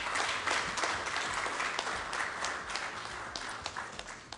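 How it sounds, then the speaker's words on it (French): Applause from the audience at a government seminar closing ceremony in Guinea, a fairly faint but continuous rattle of many hands clapping together, tapering slightly toward the end. "un tour d'applaudissements très fort"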